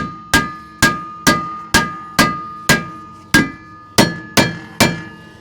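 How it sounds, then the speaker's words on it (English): Hammer taps on a stuck rear brake rotor of a Toyota Camry, ten sharp metallic blows in a steady rhythm, each ringing briefly before the next, close and loud with no talk. "give it a few taps on either side. Sometimes around the face of this too will help break that loose."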